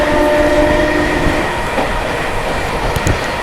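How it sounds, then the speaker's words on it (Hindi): An Amrit Bharat express train on the Patna–New Delhi route rushes along at speed, its steady loud roar and rail rumble filling the clip alone, with a faint clickety-clack rhythm of wheels over track joints. "क्या ताबड़तोड़ भगा रहे हैं भाई अपने अमृत भारत"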